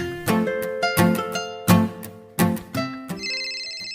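A cellphone ringtone plays in a home, with a melodic tune of repeated note bursts that come back in a steady rhythm. The ringing is loud and close, and no one talks over it.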